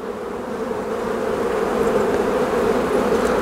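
Honeybees buzz on an open hive frame during a hive inspection, a loud, dense, steady drone from many bees close by, with no talking.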